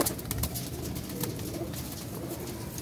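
Baby pigeons cooing softly amid a steady hum, a continuous low murmur of bird sounds under broadband background noise with no talking.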